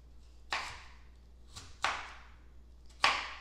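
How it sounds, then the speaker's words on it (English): A knife chopping pear apple on a cutting board, three distinct sharp chops spaced about a second or more apart, fairly quiet against a near-silent background. "now I'm gonna finish chopping up my pear apple"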